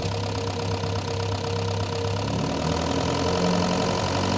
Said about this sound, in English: Let me try revving it up a little bit.